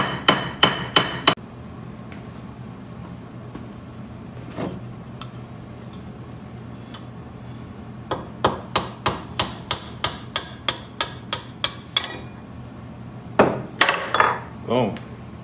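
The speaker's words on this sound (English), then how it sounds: "I'm just using this brass hammer on there so it's not going to do any damage to the pieces" Sharp metallic brass hammer strikes on a shaft of a 1934 South Bend lathe ring out in quick bursts: a few at the start, a long rapid series in the middle, and a final cluster, with quiet pauses between.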